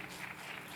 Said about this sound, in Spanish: ¿Por qué no le aplaudimos a Dios?